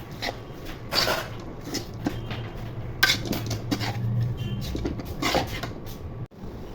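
Metal pot lid lifted and set on a frying pan of potato and pointed gourd stir-fry, several close clanks and scrapes over a steady low cooking hiss.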